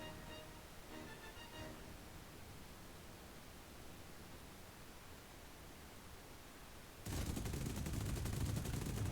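Rapid aircraft cannon fire in a flight combat game, a loud dense burst of gunfire cutting in abruptly near the end over a steady background of engine drone, with no talking.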